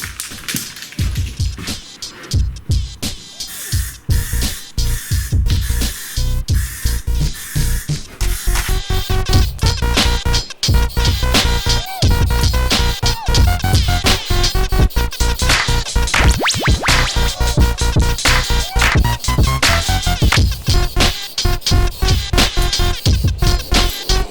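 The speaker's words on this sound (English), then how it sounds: "we'll start with our spraying process" Steady hiss of an aerosol Plasti Dip spray can coating car wheels matte black in short and long bursts, close and loud, with faint handling noises and no talk.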